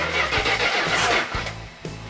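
An Edelbrock-equipped 400 engine on an engine run stand cranks with a steady rhythmic chug of the starter, loud and close, with pulses repeating about twice a second.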